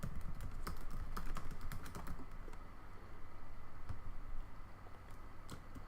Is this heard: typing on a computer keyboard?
yes